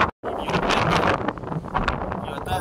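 Strong wind roars across the microphone on an open ferry deck in cold weather, a loud, continuous buffeting rush with a brief dropout near the start.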